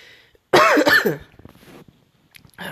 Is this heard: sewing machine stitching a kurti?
no